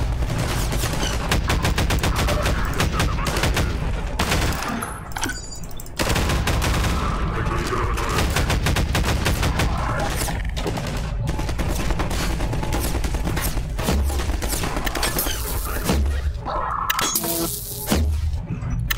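Weapon fire aimed at trash cans in the video game Half-Life 2, a loud, nearly unbroken barrage of rapid gunshots and impacts filling the whole stretch with only brief dips.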